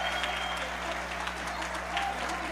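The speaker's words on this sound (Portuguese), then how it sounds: "Palmas pra ela." An audience claps together in a sustained burst of applause, dense and even for the whole stretch with faint crowd murmur mixed in.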